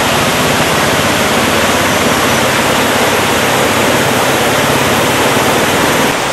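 River water rushing where Pandiyar tributaries join near Punnampuzha, a loud, steady, dense roar of flowing water with no voices over it.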